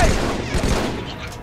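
Dense, continuous gunfire with rumbling booms fills a short stretch of Halo 3 combat, loud and close.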